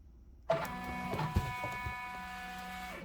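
An embroidery machine stitching freestanding lace floral pumpkins starts up and runs with a steady mechanical whir and tonal hum, close by and without talk.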